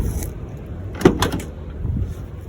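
A 1996 Ford F-150 door with a new latch assembly, handle and striker closes in a single solid thunk with a brief latch rattle, heard alone and close.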